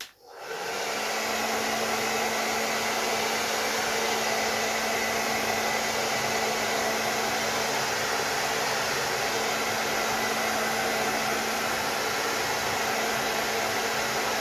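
A hair dryer heats the tissue covering on a model Spitfire aircraft, starting abruptly and then holding a loud, steady whooshing roar with a faint constant hum for the whole stretch.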